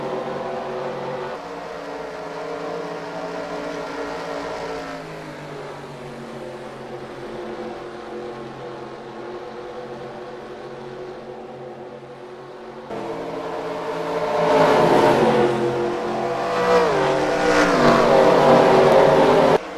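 Race cars in a Piston Cup racing game power down the front stretch at Palm Mile Speedway, a steady engine drone that swells louder and harsher near the end as cars pass close.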